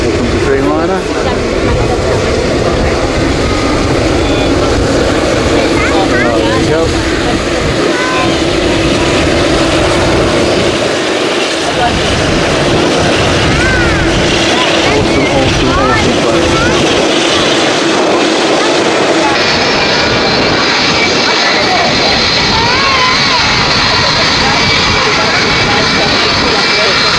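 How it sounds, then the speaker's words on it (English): A Boeing 787 Dreamliner jet arrives at Manchester Airport, a loud steady roar of engines sustained throughout, with a shift in tone near the end and people talking over it. "Here comes the Dreamliner."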